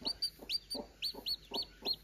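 Newly hatching chicks peep in a farm incubation setting, with seven or eight short, high rising chirps in a steady, quick rhythm, close and fairly clear, over softer low clucking from a hen.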